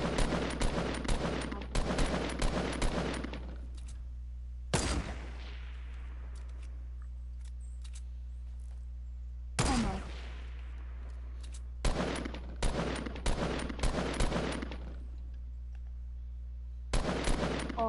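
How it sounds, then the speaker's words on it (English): Fortnite gunfire in repeated bursts of rapid sharp shots separated by quiet gaps, some with fading echoing tails, over a steady low hum with no talking. "That's me about to shoot you, by the way."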